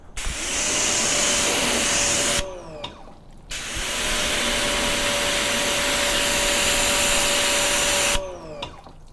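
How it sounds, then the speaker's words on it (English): Water rinses off a ceramic-coated car during a maintenance wash as a steady, loud, close hissing spray with a faint tonal hum, cutting off briefly twice before resuming. No voices. "Let me show you guys a quick close-up of the rinse off."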